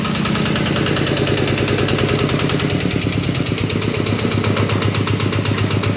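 A fuel-injected UA10 motorcycle with an original engine runs close by at a steady idle, a loud, even, rapidly pulsing putter that holds for the whole stretch.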